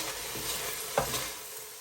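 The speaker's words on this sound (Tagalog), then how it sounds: "And then mix again." Spaghetti sauce seasoned with pepper and fish sauce is stirred in a pan, making a soft, quiet sizzle with a single brief knock of the spoon midway.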